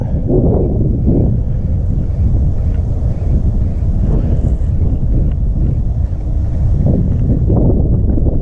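Steady, loud wind buffets the microphone while fishing from a boat on open water, a constant low rumbling roar with gusts swelling and easing throughout and no clear speech.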